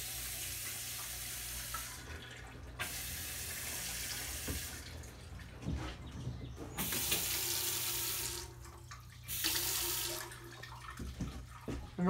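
Water runs from a trailer's water system as the main pump draws from the holding tank, a steady rushing flow that stops and restarts in several bursts, with pauses of quieter background between them.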